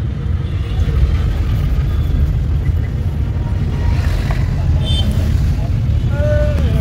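Heavy road traffic: a constant low rumble of engines close by, with a couple of short horn beeps near the end and faint voices in the background.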